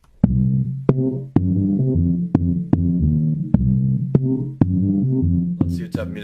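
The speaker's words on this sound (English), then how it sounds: "Now we have a slap bass." Slap bass line built from Mario 64 video game sound effects, compressed, playing a steady run of sharp plucked attacks over sustained tonal notes, loud and alone.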